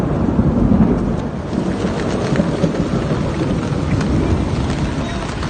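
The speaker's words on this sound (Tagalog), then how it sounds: "Lakas ng kulog." Loud, deep rolling thunder rumbles over heavy, steady rain pattering on surfaces in Manila during a typhoon, with no voices.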